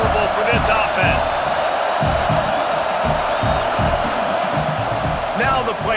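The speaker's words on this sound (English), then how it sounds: "This crowd trying to make life miserable for this offense." Stadium crowd roaring in EA College Football 26, a loud sustained wall of noise with rhythmic stomping or clapping thuds and scattered whoops and shouts throughout.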